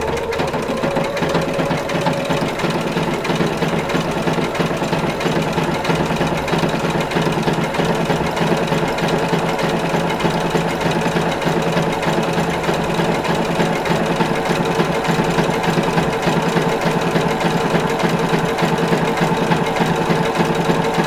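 Sewing machine running a steady zigzag overcast stitch along a raw fabric edge for corset bone casings, loud close mechanical whir and rapid needle knocking throughout without pause, no voices.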